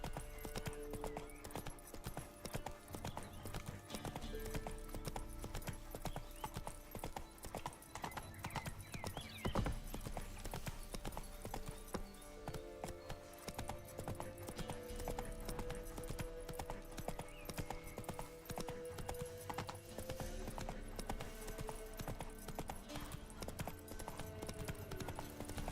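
Roach the horse gallops in The Witcher 3, steady rapid hoofbeats drumming alone over a continuous game soundscape for the whole stretch.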